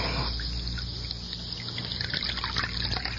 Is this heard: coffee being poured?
yes